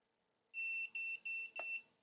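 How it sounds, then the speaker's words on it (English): A Vifly Finder lost model buzzer sounds four loud, shrill electronic beeps in quick, even succession at close range, against silence. "Just like any other normal buzzer, nice and loud"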